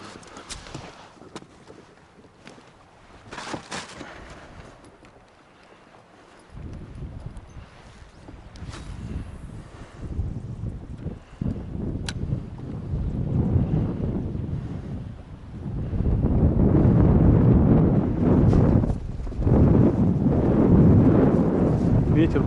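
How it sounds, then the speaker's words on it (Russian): Side wind gusting over open water on a fishing outing buffets the microphone, quiet and broken at first, then building into a heavy, steady roar with lapping waves beneath. "Ветер боковой."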